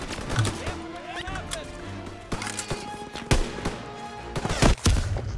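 In the World War II shooter Call of Duty: WWII, sharp blasts and bursts of gunfire crack through the scene, with one or two heavy explosive hits near the end.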